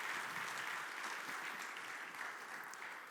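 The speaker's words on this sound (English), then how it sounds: "One big applause, please." A conference audience claps steadily and evenly from start to finish, a dense sustained round of applause that sounds somewhat distant.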